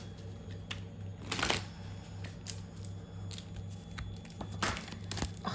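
Tarot cards shuffled by hand nearby, quiet riffling and slapping bursts at irregular intervals over a faint steady hum.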